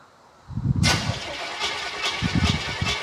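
A custom all-wheel-drive Ford Shoebox with a carbureted engine gives a brief crank, then the engine catches and runs with a loud, uneven, rough idle close by.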